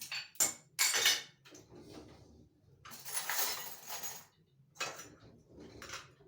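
Dishes and cutlery clatter and clink in repeated bursts, with plates scraping and stacking close by in an otherwise quiet room as dirty dishes are cleared up.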